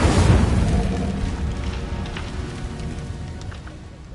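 A burst of fire from the Incendio spell in Hogwarts Legacy, a loud roaring whoosh at the start that slowly fades over a few seconds into a crackling, sizzling tail.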